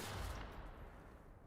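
A barrel blows up in The Outer Worlds, a loud broad burst that starts at full force and then decays into a fading, crackling rumble over about a second and a half.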